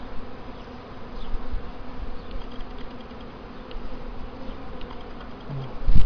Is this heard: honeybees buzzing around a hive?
yes